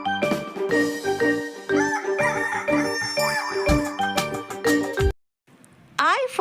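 A rooster crows cock-a-doodle-doo in a children's phonics song for the letter H, set over bright musical notes and a sung voice, then a short silence before a sharp rising sound returns.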